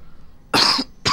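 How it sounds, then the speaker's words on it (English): A single sharp cough bursts out close to the microphone after a quiet pause, followed by the start of a second cough, during a playthrough of the horror game Fatal Frame: Maiden of Black Water. "I had to cough right quick."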